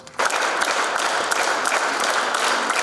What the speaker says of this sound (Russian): Зал ветеранам аплодировал стоя несколько минут.